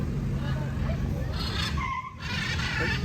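Car passing close by on a street in Caracas, Venezuela, a loud continuous rush of engine and tire noise with a brief dip near the end, set against busy city traffic.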